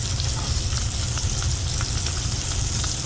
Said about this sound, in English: Now we're going to do a little sear on the other side as well.